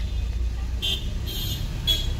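Heavy road traffic in Mahabaleshwar: a steady, close engine rumble with three short car-horn toots spaced about half a second apart standing out over it.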